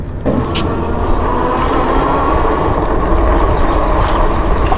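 A Senada Herald e-bike with a 1000W Bafang hub motor out on a ride, giving a steady, loud rush of wind and road noise that runs unbroken for the whole stretch, with no talking.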